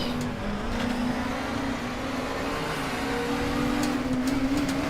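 A race car engine drones steadily in RaceRoom Racing Experience, a sustained mid-pitched hum that rises slightly in pitch partway through, with faint clicking above it; even and moderately loud, no talking.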